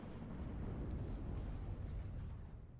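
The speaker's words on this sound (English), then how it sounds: "Akacia engaging into the rear here with its artillery." Artillery fire from a WARNO real-time strategy battle: a continuous low rumble of distant shelling, dense and booming, sustained throughout with no voices.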